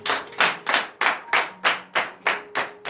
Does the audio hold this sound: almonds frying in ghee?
no